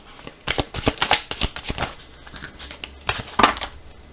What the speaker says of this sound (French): 4 cartes des météores. C'est parti mon kiki, ça tombe.